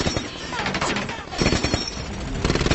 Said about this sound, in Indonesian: ketegangan pun terjadi saat para tamu menembak tempat itu secara membabi buta